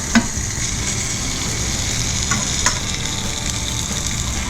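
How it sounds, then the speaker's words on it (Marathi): Chicken patties sizzle loudly and steadily on a new grill pan, with a continuous dense frying hiss and a few small crackles and pops scattered throughout. "त्याला टाकूया आता आपण पॅनवर फ्राय करायला"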